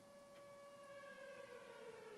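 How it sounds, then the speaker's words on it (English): A siren wails steadily at a distance, faint and slowly sliding in pitch, with no voices over it. "Oh, it's the siren."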